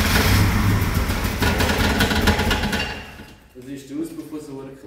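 A 1987 Volvo 740 GL runs on a cold start after sitting for several years, its engine noise loud and rough at first before dropping away, with a voice briefly heard at the end.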